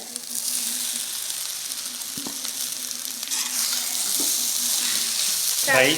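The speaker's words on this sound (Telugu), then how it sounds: "ఇప్పుడు రైస్ వేసేసుకుని కలిపేసుకోవాలి" Cooked rice being stirred into a frying gongura (sorrel leaf) and egg mixture in a pan with separated oil, a steady close sizzle running throughout with a few soft scraping knocks and a brief clatter near the end.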